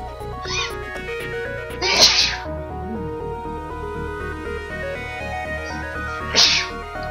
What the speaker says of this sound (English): I need to sneeze also hold on